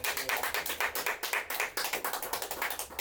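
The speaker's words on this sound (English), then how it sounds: "Let's give the brothers a round of applause again." Applause from a small podcast studio audience, steady overlapping hand claps close to the microphone running throughout at moderate loudness, with no talk.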